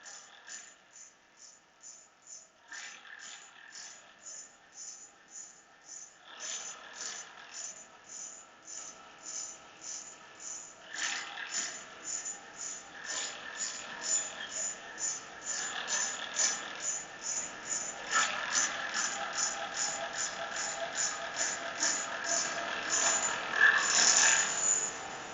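Graviflyer rotors spin with a fast, regular whirring tick that rises and shifts in rate as the speeds change, gradually growing louder over the stretch with no speech.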